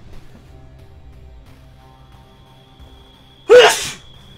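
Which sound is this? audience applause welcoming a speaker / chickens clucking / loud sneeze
loud sneeze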